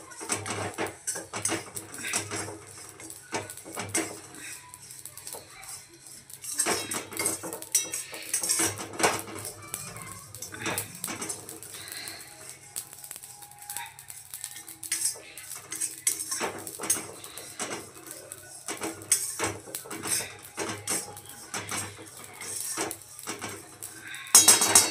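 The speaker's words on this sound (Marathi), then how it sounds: "राहिलेलं आपलं लास्ट शहाजिरं भाजायचं" Shahjira (caraway seeds) dry-roasting in a pan, heard as a long run of quiet irregular metal scrapes, taps and clinks of a spoon stirring against the pan, with faint background sounds.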